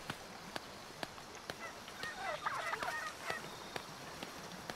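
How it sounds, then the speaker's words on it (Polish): Turkeys gobble in Shadow of the Tomb Raider, faint honking calls clustered in the middle, under sharp repeated clicks and quiet ambient game sound. "Indyki."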